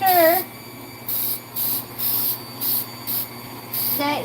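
Cooking spray misted onto a baking pan for a lemon pound cake, heard as a quick series of short, close hissing bursts with brief gaps between them.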